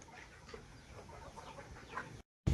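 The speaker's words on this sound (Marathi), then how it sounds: "काही कोंबड्या बाहेर आहे आणि काही मध्ये बघा।" Chickens on a poultry farm cluck in short scattered calls over low barnyard background, moderately close, before a brief silence and a sudden loud bump at the end.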